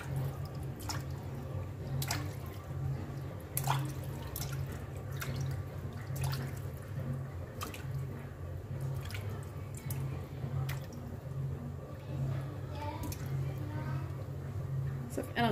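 Sardines being washed in water, with scattered close drips, splashes and wet squishing over a steady low hum, moderately quiet and without talking.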